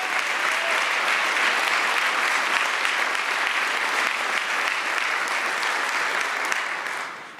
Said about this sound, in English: I'd love to just give you a round of applause